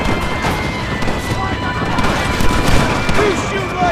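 Gunfire rattles through a Red Dead Redemption shootout with rebels, a dense, continuous crackle of shots and impacts with shouted voices mixed in.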